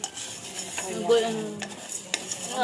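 Sugar melting in a pan for homemade sweet yogurt is stirred steadily, with soft scraping and occasional metallic clinks of the spoon against the pan over a faint sizzle, close and without talk.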